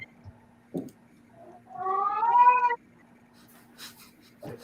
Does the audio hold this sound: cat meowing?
yes